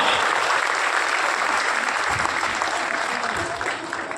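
An audience at a Hindi poetry gathering in Ratangarh applauds with full, continuous clapping that fades slightly toward the end, with no speech over it.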